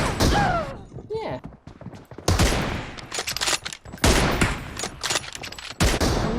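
Gunfire in the mobile shooter PUBG Mobile comes in loud bursts of rapid shots separated by short gaps, with someone talking excitedly between and over them.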